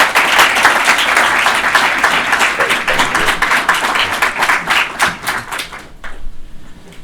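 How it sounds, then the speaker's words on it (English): Steady, loud applause from a convention audience at a workers' rights gathering, dense clapping that fills the room and thins toward the end. "Please give them one more round of applause"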